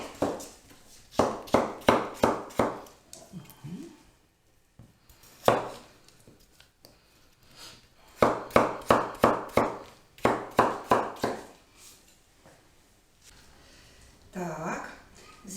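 Knife chopping onion on a separate cutting board in a home kitchen, rapid bursts of rhythmic taps in several runs of about six to eight strokes, close and clear, with pauses and brief movement noises between runs.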